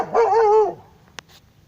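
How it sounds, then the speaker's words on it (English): A German Shepherd gives one loud close bark-whine lasting about half a second, followed by a faint click and quiet room tone. "A dog showed up."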